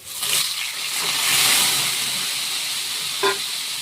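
New potatoes added to hot oil set off a burst of hissing steam and sizzle that swells and fades, with a short clink near the end; no speech.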